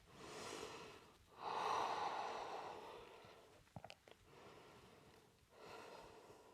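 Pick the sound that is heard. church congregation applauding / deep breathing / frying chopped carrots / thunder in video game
deep breathing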